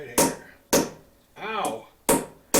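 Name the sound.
hammer striking a metal washer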